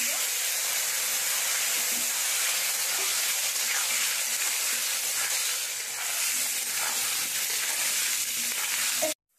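Taro pieces seasoned with turmeric and salt sizzling in hot oil in a pan, a loud, steady frying hiss that continues almost unbroken before cutting off abruptly at the end.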